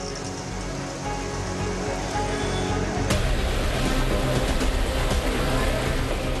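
Heavy monsoon rain pours outside Dombivli station onto a waterlogged road, a dense, constant hiss that grows noticeably louder partway through.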